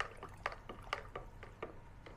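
Diluted pesticide mixture pouring into a bucket makes faint, close splashes and drips that come in short irregular bursts, with no talk over them.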